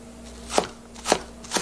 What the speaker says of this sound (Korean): 이렇게 작게 썰어 놓고요